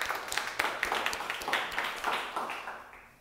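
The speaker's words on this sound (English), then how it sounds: "Go ahead and clap it up for LESS." A conference audience claps at a Startup Grind talk, a lively burst of many hands that gradually fades out over a few seconds.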